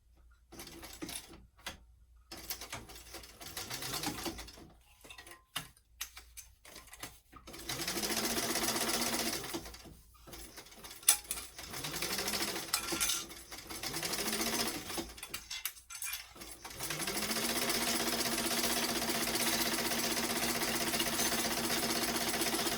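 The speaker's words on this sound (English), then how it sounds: "I'm going to top stitch along one end" A sewing machine top stitches along one end of a Carmen weekender travel bag at a 1/8 inch seam allowance. Its motor hums in several long runs that start and stop, with short pauses and a rising whir each time it restarts.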